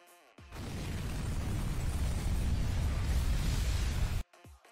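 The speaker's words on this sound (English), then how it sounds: "Oh, wait, we already have an explosion." An explosion effect in a Roblox Studio game bursts in suddenly, loud and close, with a booming, rumbling roar that sustains for about four seconds and then cuts off abruptly, with no talk over it.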